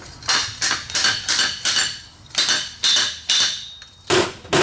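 Fork seal driver, 43 mm, tapping a bushing into place in the fork of a Suzuki V-Strom 650 (DL650): a run of about ten sharp metallic strikes in steady rhythm, close and loud, each with a bright ringing tail.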